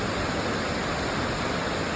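Tortum waterfall in Erzurum, water falling roughly 48 to 50 metres, a steady, loud, dense roar of rushing water that continues unbroken and alone.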